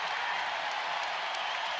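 A basketball arena crowd roars and applauds after an Iowa three-pointer in a women's college game, a broad continuous wash of cheering and clapping at moderate distance.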